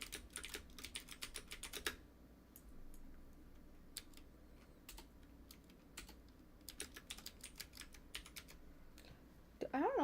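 Rapid clatter of keys on a computer keyboard in bursts, pausing in the middle stretch and resuming, close and moderately quiet, with a brief voice at the end.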